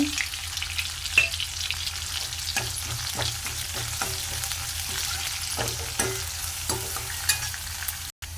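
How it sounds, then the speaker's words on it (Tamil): Chopped big onions sautéing in a pan for a greens rasam, a steady close sizzle and crackle of frying with occasional stirring scrapes and clinks, no talking. "வெங்காயம் நல்லா வதங்கட்டும்"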